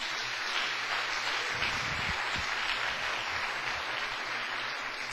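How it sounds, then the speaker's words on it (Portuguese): Audience applause at a church gathering: dense, steady clapping that holds at an even level for about five seconds, with no voices standing out. "Agora pode dar uma salva de palmas para a sua vida."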